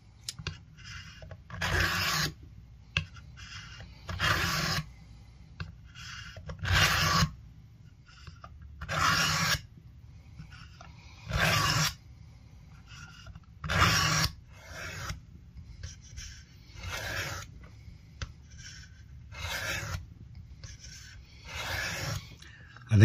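A vintage Warren Cliff knife blade is sharpened with repeated rhythmic strokes, each a short rasping scrape of a second or so separated by brief pauses, close and clear with no talking.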